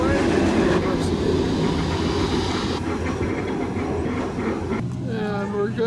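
A New Orleans trolley car rolls along toward the Garden District, its steady loud rumble and rail clatter filling the space, with faint voices murmuring beneath the noise.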